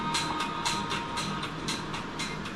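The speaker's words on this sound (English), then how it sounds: "Oh, the train." A train rolls past nearby, a steady rumble with a regular rhythmic clatter of wheels over rail joints, fairly loud throughout.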